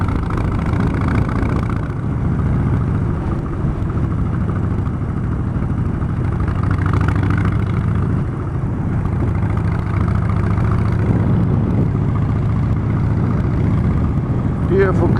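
A Harley-Davidson Street Bob 1690 Dyna rumbles steadily at cruising speed on a coastal road in Cumbria during the TT, the low engine drone mixed with wind roar, while a rider talks over it.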